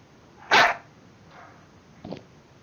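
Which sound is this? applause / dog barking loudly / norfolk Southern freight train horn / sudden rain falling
dog barking loudly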